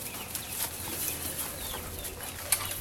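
Chickens cluck softly in the background outdoors, faint scattered calls over a steady low ambient hiss, with one brief louder peep near the end.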